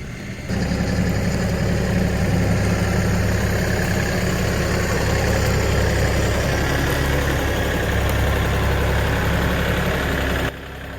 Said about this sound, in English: the digging is easy with the tractor